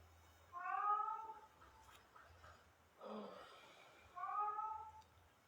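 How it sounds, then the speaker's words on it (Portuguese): Cats meow indoors during a live morning broadcast: two clear, drawn-out meows a few seconds apart, with a softer vocal sound between them, over a quiet background. "Gatinhos, cachorros hoje estão querendo participar da live."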